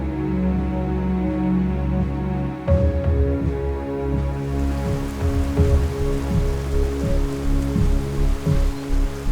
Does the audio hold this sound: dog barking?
no